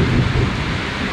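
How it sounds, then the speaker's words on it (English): A deep rumble of thunder rolls under steady heavy rain, loud and close for about a second. "Thunder."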